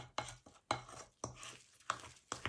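Spoon stirring a thick chickpea flour batter for bread, heard as a series of distinct scraping and clinking strokes against the bowl at an irregular, unhurried pace, close by with no talking.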